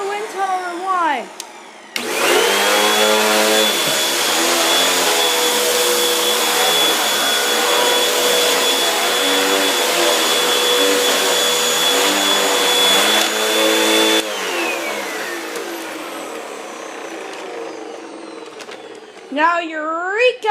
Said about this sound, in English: Hoover Wind Tunnel Rewind